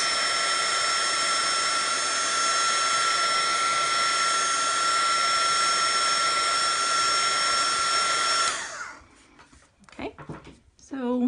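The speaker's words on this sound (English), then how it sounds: "So we're going to use, I use a heat gun." A heat gun drying chalk paste blows a steady, loud whooshing roar for several seconds, then cuts off, leaving faint handling noises.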